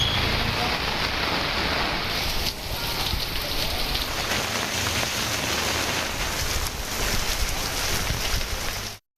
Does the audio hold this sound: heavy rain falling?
yes